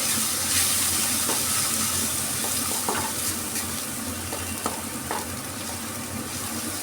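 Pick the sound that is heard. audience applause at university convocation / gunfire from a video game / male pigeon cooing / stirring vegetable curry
stirring vegetable curry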